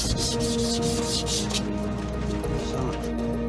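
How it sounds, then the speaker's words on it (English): A Chevrolet C10 truck spindle is rubbed smooth with 1000 grit sandpaper in steady back-and-forth strokes, close and continuous, with a low mechanical hum underneath. "Knocked the high spot down with a file, then came back with some 1000 grit sandpaper to smooth it all out."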